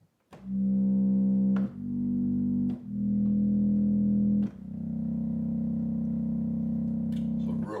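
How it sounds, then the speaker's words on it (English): Deep, buzzy bass notes from the sub bass stop of a 1914 Mason & Hamlin Style 86K reed organ, four held tones played one after another, each sustained and rumbling, with no voices. "Rumbles like a true sub bass should."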